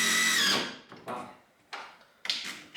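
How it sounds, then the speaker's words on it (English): A power drill drives screws into garage door hardware in three or four brief whirring bursts separated by short gaps. "I'm just gonna put in a couple more screws here"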